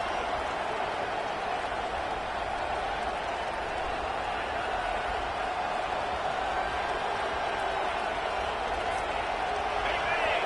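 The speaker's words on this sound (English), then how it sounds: "Listen to this crowd just shaking the girders of this place trying to help their defense" Stadium crowd roaring continuously at a Georgia Tech college football game, a dense, sustained wash of cheering and noise throughout with no pauses, loud and distant-sounding like a packed stand.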